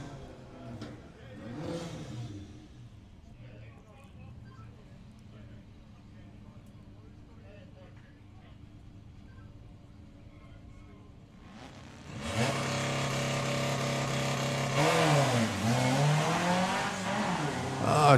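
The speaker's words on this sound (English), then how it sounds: "the Baja Bug of Steve Metcalf. taking on the Golf GTI of Joshua Lee" At a Santa Pod drag racing eliminations event, a Baja Bug and a VW Golf GTI launch, a sudden loud burst of roaring, revving engines late on after a quieter stretch of idling, with a commentator talking over it.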